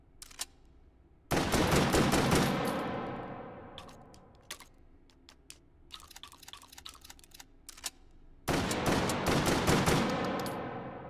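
A classic gun with a six-round capacity fires in the VR game Hot Dogs, Horseshoes & Hand Grenades: two loud, sharp blasts with long ringing decays, separated by softer mechanical clicks and handling taps.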